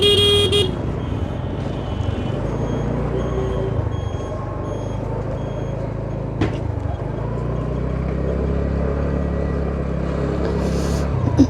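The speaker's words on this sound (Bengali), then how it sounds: "আমি একটু হর্ন দিলাম" A motorbike horn toots briefly on a road at the start, over steady engine and traffic rumble that carries on for the rest of the ride.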